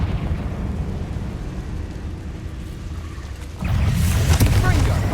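In Hogwarts Legacy, a Confringo fire blast spell bursts with a sudden loud rumbling explosion about three and a half seconds in, after quieter game ambience. A voice casts spells.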